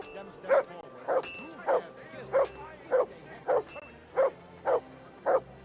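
A dog in Kingdom Come: Deliverance 2 barks about ten times at a steady, regular pace, each bark short and clear over a quiet game background.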